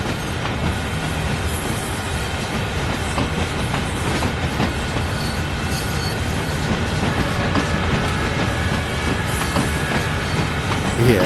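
A train in Train Sim World 5 near Johnstown, Pennsylvania, rolls steadily with continuous rumbling and faint clickety-clack of wheels over rail joints, loud and close with no pause.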